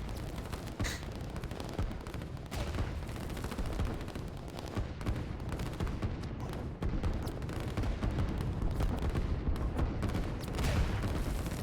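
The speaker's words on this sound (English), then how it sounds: "The artillery are managing to fire in." Artillery and gunfire rumble on a battlefield in the strategy game Line War, a continuous dense barrage of thuds and crackling shots at a steady moderate level with no talk.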